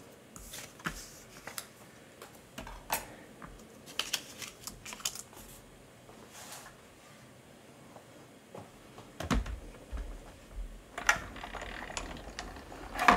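Card stock sheets run through a die-cutting machine, heard as faint scattered clicks, rustles and crunching with a few sharper knocks in a quiet room, with no talking.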